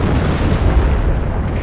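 Artillery fire strikes a base in the World War II strategy game Company of Heroes, a loud, sustained rumbling barrage of deep booms and blasts with no voices over it.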